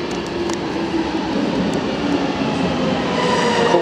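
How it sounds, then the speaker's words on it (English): A train rumbles into a platform with a steady low roar and faint high squeals and clicks, growing slightly louder toward the end; no talking. "Oh, here's our train now."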